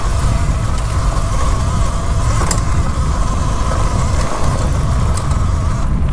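Talaria Sting electric dirt bike fitted with a BAC8000 controller climbing a steep uphill trail, giving a steady loud motor whine with wind rush and a broad rumble throughout, close and continuous with no talking.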